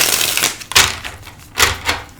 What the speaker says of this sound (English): We'll shuffle these all out